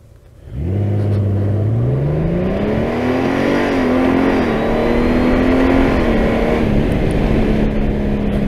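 A motorcycle in sport mode accelerates hard from a stop alongside a small Fiat, its engine roaring up loud and close with a rising pitch through the gears, then holding a strong steady drone.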